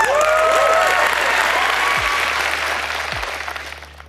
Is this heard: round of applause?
yes